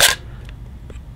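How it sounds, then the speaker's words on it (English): A Zenit film camera's shutter release fires with one sharp, loud mechanical snap, followed by faint small clicks from the film wind-on lever in a quiet room. "the shutter release was on the top, and it made a lovely mechanical sound"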